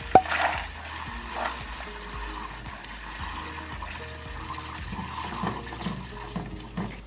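Butter simmers in a pan while it is stirred for browning, giving a soft, continuous bubbling sizzle with occasional faint scrapes of the spoon. The sound is close and fairly quiet, and no voices are heard.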